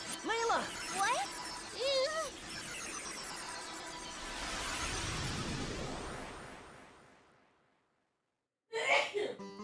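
One exaggerated sneeze with a gasping wind-up, likely a voiced imitation. Voices come before it, a long sweeping whoosh fades into silence, and then a short vocal burst follows.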